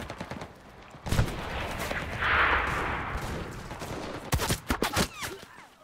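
Gunfire in the World War II shooter game Enlisted: a sharp shot near the start, a sustained noisy stretch, then a quick cluster of loud cracking shots toward the end.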